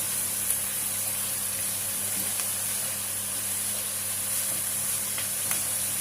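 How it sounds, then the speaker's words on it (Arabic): Onions and rinsed green olives frying together in oil, giving a steady, even sizzle with soft crackles throughout, close by and continuous with no talking. "نقليهم جيدا مع بعضهم"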